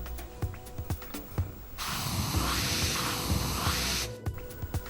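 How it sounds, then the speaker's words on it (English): Air hissing steadily for about two seconds from an open beadlock air channel valve with its core removed on a tyre pumped to roughly 20 psi, between short tapping and handling noises close by. "Then remove the air channel valve core and check for airflow."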